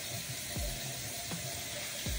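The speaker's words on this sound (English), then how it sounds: "First, what I do is I wet my washcloth" Water runs steadily from a bathroom faucet to wet a washcloth, a faint continuous hiss and trickle with a few soft splashes and no talking.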